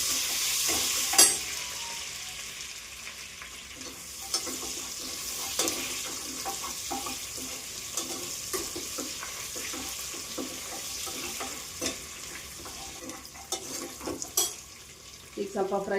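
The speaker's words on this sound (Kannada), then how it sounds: "ಸ್ವಲ್ಪ ಗೋಲ್ಡನ್ ಬ್ರೌನ್ ಬರೋವರೆಗೂ ಗೋಡಂಬಿ ಫ್ರೈ ಮಾಡಿಕೊಂಡು" Cashews and onion fry in hot oil for a vegetable pulav tempering, a steady sizzle broken by scraping stirs and occasional clinks of a spoon against the pan.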